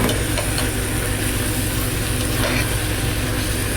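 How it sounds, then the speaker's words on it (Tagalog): Sauerkraut with translucent onions sautés in a pan, giving a dense, loud, continuous sizzle with a constant hiss throughout and no pauses. "Gisa lang natin konti."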